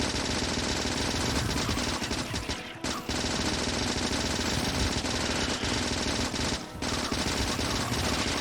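Rapid automatic gunfire from the video game Factorio, a dense continuous rattle of shots with brief dips near three and seven seconds, loud and steady throughout with no talking.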